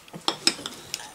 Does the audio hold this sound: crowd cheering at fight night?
no